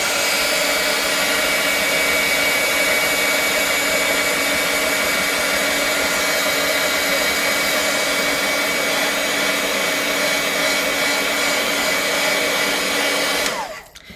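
A hair dryer blows steadily and loudly on paint in an art journal, a constant whooshing roar that cuts off abruptly at the very end.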